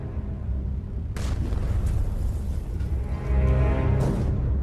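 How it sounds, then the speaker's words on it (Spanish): Deep muffled booms heard inside a submerged submarine rumble over a low steady drone, as shells explode in the water nearby, with a sharp burst of noise followed by rolling echoes and a heavier swell near the end. "El chapoteo de proyectiles retumba en el casco."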